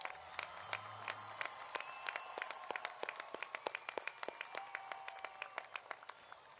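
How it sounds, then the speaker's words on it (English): A high school graduation crowd claps for seniors, scattered individual hand claps ringing out sharply and fairly close over a thinner background of applause, lasting several seconds without speech. "Will you please give these graduates a round of applause?"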